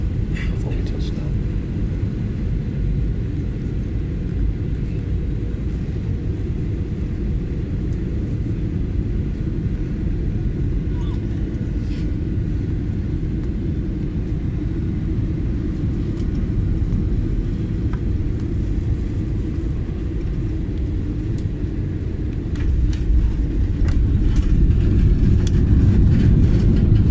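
Air Asia airliner landing at Phnom Penh International Airport at night, heard from inside the cabin as a steady, loud, low engine and road rumble that swells slightly toward the end.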